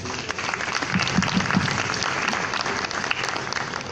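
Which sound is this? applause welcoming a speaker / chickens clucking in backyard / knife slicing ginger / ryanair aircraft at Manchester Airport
applause welcoming a speaker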